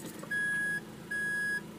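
Two evenly spaced electronic beeps from a Daihatsu Rocky 1200cc Type M shifted into reverse gear, clear and close over a quiet cabin hum.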